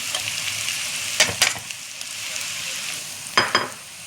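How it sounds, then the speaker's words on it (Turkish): Chopped onions and green peppers fry in hot oil with a steady, close sizzle, broken by a few brief stirring scrapes of a utensil in the pan. "Soğanlarımız renk değiştirmeye başladığı için yeşil biberlerimi ekliyorum."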